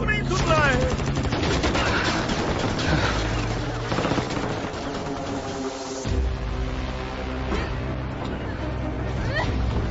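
Dense gunfire in a South Indian Hindi-dubbed film scene, rapid bursts and volleys mixed with loud shouting voices and a heavy rumbling score, loud and continuous.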